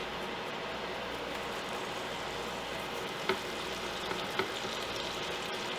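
Butter and garlic sizzle in a pan while lobster bisque is being made, a steady, even frying hiss throughout with a couple of small pops, close by and alone.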